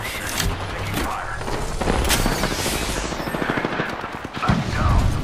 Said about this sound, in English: Getting shot. Someone's gonna death me. Recharging shit. Taking fire.